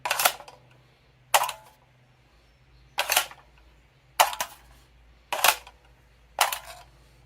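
An SR25 magazine is inserted into the mag well of an upper receiver, six sharp metallic clacks spaced about a second apart, close and crisp, each decaying quickly.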